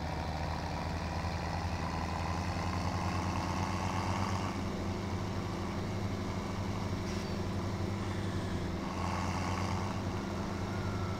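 A tractor engine in Farming Simulator 2017 runs at a steady idle, a low droning hum that holds faint and unbroken throughout, with no voices.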